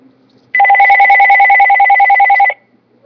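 A telephone rings in a home kitchen while a honey teriyaki chicken pizza is being prepared. One loud, close electronic ring burst lasts about two seconds, steady and warbling, with quiet before and after.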